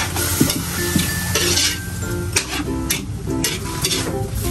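Chicken adobo in coconut milk sizzling in a pan while being stirred, a steady close frying hiss with scraping and clinking of the utensil against the pot.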